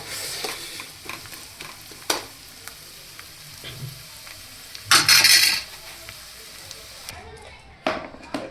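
An onion filling for paratha fries slowly in a pan over low heat, giving a soft steady sizzle with occasional spoon scrapes and one louder stirring burst midway.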